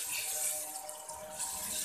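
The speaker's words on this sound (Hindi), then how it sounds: "ये देख लें 1 कप के करीब मैं इसमें पानी डाल रही हूँ।" About a cup of water is poured from a tap-like stream onto chicken in a cooking pot for masoor daal, making a soft, steady splashing trickle heard close up and fairly quiet.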